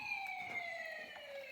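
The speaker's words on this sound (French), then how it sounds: "La sirène résonne dans toute la vallée." A siren sound effect in a children's story reading, a faint, steady wailing tone gliding slowly downward, heard alone for a brief moment.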